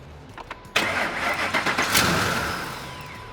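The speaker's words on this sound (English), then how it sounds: "we can go ahead and start the truck and relieve the pressure" A Ford F-150 pickup's engine cranks and catches: after a few faint clicks, the starter whirs in abruptly and the engine fires and settles into a steady, fairly close idle that slowly quiets.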